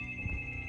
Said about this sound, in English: Is that your phone or?